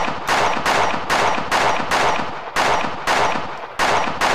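Shotgun blasts in the game Buckshot Roulette, a series of about nine loud, sharp shots fired in a steady, evenly spaced rhythm, each with a quick decaying tail.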